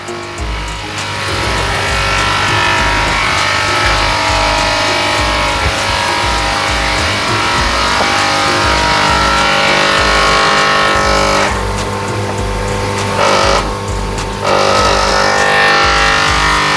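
A rotary drum filter runs at a tilapia fish farm's recirculating system, giving a steady, loud mechanical drone with a low hum throughout, and a few brief splashy hiss bursts near the end.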